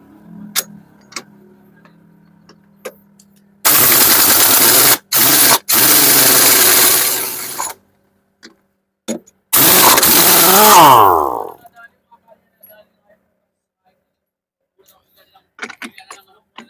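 An impact wrench removes a tyre with a flat inner tube: several loud, rattling bursts of a few seconds each, separated by short gaps and clicks, with the last burst winding down before quiet clanks.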